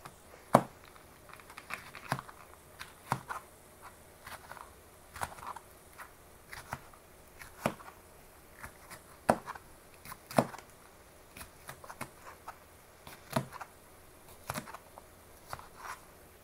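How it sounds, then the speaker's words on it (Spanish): A knife slices food into rounds on a cutting board, with close, crisp chops falling at a steady, even pace of about one per second. No one speaks. "te lo voy a cortar así nada más en rueditas"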